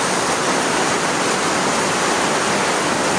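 Heavy rain pours down in a loud, unbroken rushing roar, dense and close, with no talking heard over it.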